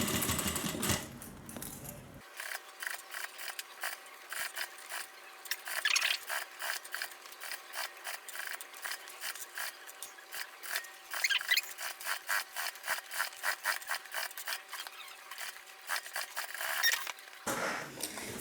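A sewing machine runs a long line of stitching on a sling bag, a fast, steady mechanical rattle of needle strokes that starts and stops after about fifteen seconds, close up with no talking.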